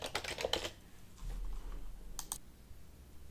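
A burst of computer keyboard typing as a configuration name is entered, then quiet, then a couple of close key clicks near the end.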